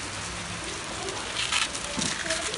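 Steady rain falls in a village setting as a dense, even hiss, fairly faint and continuous, with no talking.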